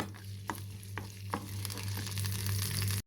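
Ginger and garlic fry quietly in hot oil for a village-style mutton and potato curry, a soft steady sizzle broken by a few light spoon scrapes and one brief clatter near the end.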